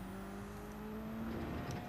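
A race car's engine exhaust in Gran Turismo 7 drones steadily and faintly throughout, a continuous low engine tone with no talking.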